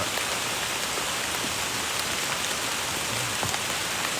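Steady rain pours down continuously, a dense hiss of drops striking surfaces close by with no voices.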